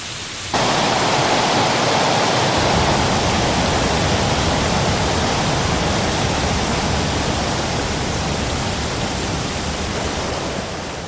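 Heavy tropical rain pours down in the Panama rainforest, a dense, loud, unbroken hiss that swells in suddenly after a brief quiet start and stays constant throughout.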